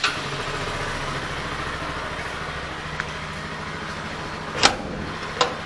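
A motorcycle engine idles close by with a steady low mechanical putter, broken by a couple of sharp clicks or knocks near the end.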